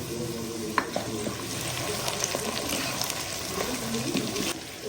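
Potatoes being stirred with salt, turmeric and red chilli powder in a hot pan, a soft sizzle under scraping and clinks of the spoon against the pan, continuous and close.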